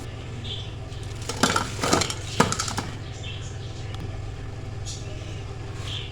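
Cabbage and onion pakoras fry in hot oil under a steady low bubbling, with a cluster of sharper crackles and spatters in the middle before it settles back to a quiet simmer.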